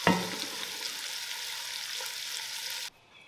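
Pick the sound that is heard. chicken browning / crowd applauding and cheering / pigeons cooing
chicken browning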